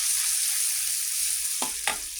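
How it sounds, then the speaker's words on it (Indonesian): A ground spice paste sautés with a little water, giving a steady, fairly loud hiss of sizzling, then two short scraping stirs near the end and no talking. "Sekarang mulai masak lagi. Tumis pakai sedikit air aja,"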